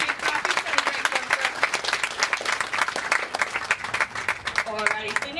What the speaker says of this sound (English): Alright, we give Hunter a big clap.